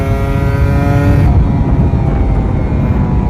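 A Kawasaki Ninja RR 150 motorcycle is ridden on the road, its engine holding a loud, close, steady harmonic drone with a noticeable shift in tone early on, over constant wind rush.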